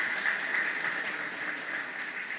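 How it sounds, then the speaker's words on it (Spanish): Steady applause for the president of the Republic from an audience at a government work-table event, a dense, even wash of clapping with no voices over it. "un gran aplauso para el presidente de la República"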